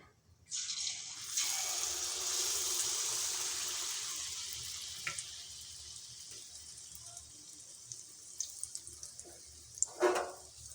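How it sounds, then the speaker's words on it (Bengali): Batter for oil-fried Bengali pitha, a soft winter sweet, hits hot oil with a sudden loud hissing sizzle. The sizzle swells within a second and slowly fades over the following seconds, with a few faint clinks near the end. "তেলটা গরম হয়ে গেছে এবার ব্যাটারটা দিয়ে দেব তেলের মধ্যে"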